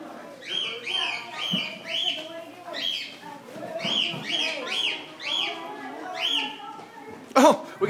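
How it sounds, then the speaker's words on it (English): Small finch chirping and tweeting in repeated short bursts indoors, moderately close, with people talking over and around the calls. "Oh, we got a bird tweeting over here."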